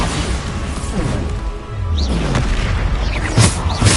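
A Bombarda explosion spell in the Hogwarts Legacy game lands as a loud booming blast amid ongoing combat noise, with a second heavy impact near the end.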